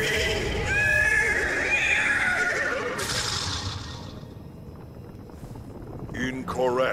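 A horse whinnies in the video game Destiny 2, a loud drawn-out neigh with wavering pitch up front, then a second shorter whinny near the end over a wind-like ambient bed, with a voice speaking faintly.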